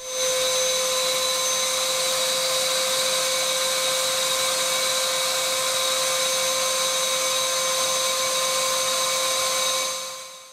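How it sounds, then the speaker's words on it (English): A steady, loud whining drone of a household vacuum motor sucking air from a bag runs continuously without pause, then cuts off at the very end. "a household vacuum will do the job much quicker"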